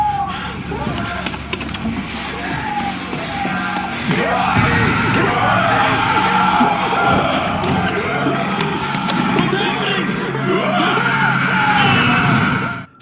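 Screaming and yelling in a dark supernatural scene, sustained and loud with a dense rumbling, chaotic background throughout.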